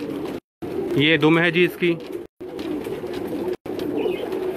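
A light-bodied pet pigeon held in the hand on a Karachi rooftop gives a soft, close series of throaty coos while someone talks nearby, with brief breaks in the sound.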